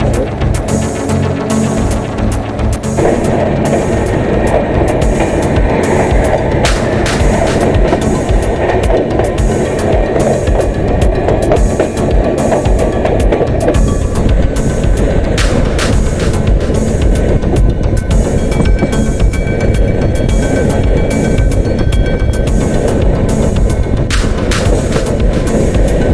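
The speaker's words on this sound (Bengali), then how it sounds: "ট্রেন এখন আছে ফারাক্কা ব্যারেজের উপর" A Howrah to NJP train running across the Farakka Barrage, a loud continuous rumble and rhythmic throbbing of wheels on the bridge heard from inside the carriage, with no talk.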